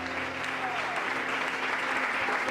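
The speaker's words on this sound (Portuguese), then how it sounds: "pode exaltar o Senhor com palmas bem alegres" Steady, dense clapping from a church congregation at a regional youth missions gathering, moderately loud and continuous, with faint voices mixed in.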